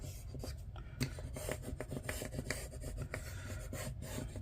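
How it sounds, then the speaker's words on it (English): Rub-on date stickers are burnished onto a paper planner page with quick, quiet scratchy strokes, a soft rhythmic rasp of close repeated rubbing. "I'm just gonna lightly burnish all of these"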